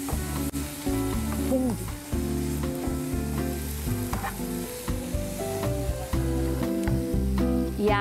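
Garlic frying in a pan for zucchini noodles, with a steady sizzle and stirring sounds beneath prominent background music, plus a brief spoken word.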